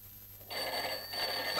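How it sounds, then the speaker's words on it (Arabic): Telephone bell ringing indoors, an electric ring starting abruptly after a quiet moment and continuing loudly with a brief dip midway. "محدش يرد على التليفون."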